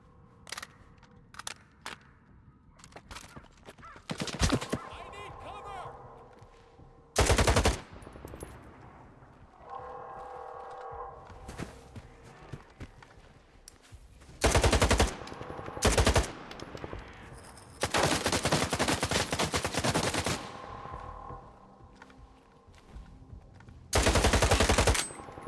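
Gunfire in S.T.A.L.K.E.R. 2: several loud automatic bursts of varying length, spaced out among quieter single shots, clicks and game ambience, with no voices.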